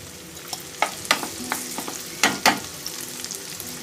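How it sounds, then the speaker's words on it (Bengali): Onions frying in a pan for a Kashmiri chicken masala curry, a soft continuous sizzle broken by sharp scraping strokes of a spatula at irregular intervals, close and without talking. "পেঁয়াজটাকে আমি খুব ভালো করে ভেজে নিচ্ছি।"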